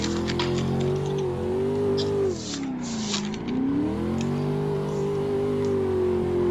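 A racing video game car engine holds a steady, buzzing drone while drifting, its pitch sagging midway and then climbing back, loud and continuous with faint clicks on top.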